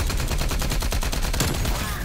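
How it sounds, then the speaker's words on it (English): A golden XM4 rifle fires in a hardcore-mode video game as a loud, dense burst of rapid automatic shots that runs without a break. "You're using a golden XM4 in hardcore."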